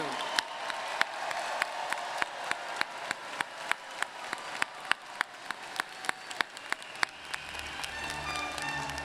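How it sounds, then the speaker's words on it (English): Audience applause for a graduating Rice Business MBA class at an investiture ceremony, a dense, steady wash of many hands clapping, with sharp individual claps standing out near the microphone throughout. "Please join us in one more round of applause for the Rice Business MBA class of 2022."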